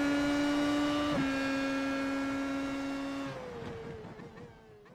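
Race car in the iRacing video game finishing a lap at Circuit of the Americas, a sustained whining engine tone that drops in pitch twice on downshifts and then fades as the car slows.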